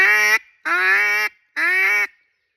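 A double reed duck call gives three loud, raspy quacks in quick succession, each about half a second long and separated by short pauses, with nothing in the background.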